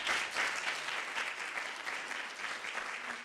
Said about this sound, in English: I think we need to give them a real solid round of applause